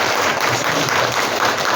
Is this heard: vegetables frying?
no